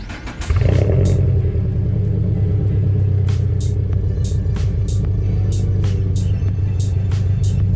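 A Toyota GR86 engine rumbles loud and close on a rainy day, with a steady deep idle and a few sharp clicks and taps on top, and no voices.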